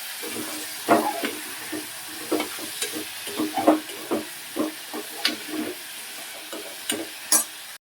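Jackfruit pieces and onions fry in a pan with a steady sizzle, broken by repeated scraping and stirring strokes at close range, with no voices.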